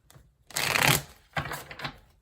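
Tarot cards riffle in a loud half-second burst, then a second shorter shuffle follows after a brief pause, close up with no talking.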